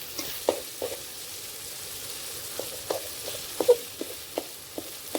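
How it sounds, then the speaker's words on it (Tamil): Onion masala for egg gravy fries in a pan, a soft continuous sizzle broken by a dozen or so light scraping stirs of a spatula, close and fairly quiet. "இது நல்லா கிளறி விட்டுக்கிடுவோம்"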